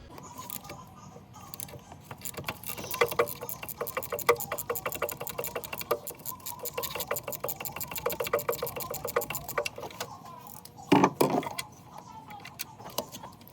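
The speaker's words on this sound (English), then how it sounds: "So we're gonna go ahead and remove these 3 bolts." A ratcheting tool removing the bolts on a 2015 BMW i3 electric shifter module, with a fast steady clicking run that stops, followed by a brief louder clatter near the end.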